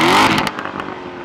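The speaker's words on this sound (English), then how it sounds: "This is the loudest, lowest restriction exhaust mode there is." A 2014 Chevrolet Corvette Stingray Z51's exhaust in race mode roars loudly, then drops off, leaving a few crackles and pops over a lower rumble.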